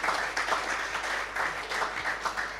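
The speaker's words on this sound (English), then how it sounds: "They deserve another round of applause." Brief, fairly faint applause from an audience at a Falling Walls Lab pitching event in Ghana, for the presenters, comes in rhythmic swells of many hands clapping.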